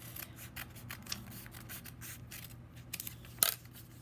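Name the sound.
cutting paper with scissors for a craft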